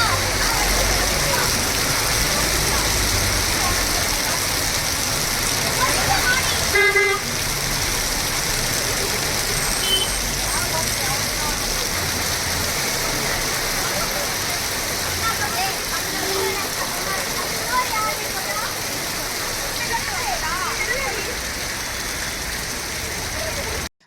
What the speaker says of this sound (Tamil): பலத்த காற்றுடன் அரை மணி நேரத்திற்கும் மேலாக மழை பெய்ததால் சாலைகளில் மழைநீர் தேங்கி போக்குவரத்து பாதிக்கப்பட்டது